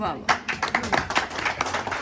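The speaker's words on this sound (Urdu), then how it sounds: "ان کے لیے ڈھیر ساری تالیاں" An audience claps at an Urdu poetry session and book launch, a brisk, uneven patter of hands from a modest crowd, fairly close, with a voice talking over it.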